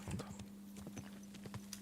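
Horse hooves clip-clopping in the video game Kingdom Come: Deliverance II, a quick steady run of hoofbeats over a constant low hum, with no talk.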